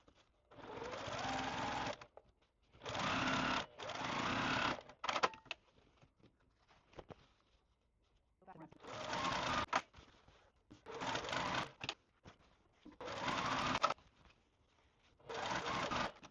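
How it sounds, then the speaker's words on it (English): A sewing machine stitches quilt pieces together in repeated runs of a steady, fast whirring hum, each lasting about a second and separated by short pauses, close and clear with faint handling noises between runs. "I'm going to just stitch them all together"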